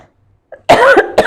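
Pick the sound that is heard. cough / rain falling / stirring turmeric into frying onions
cough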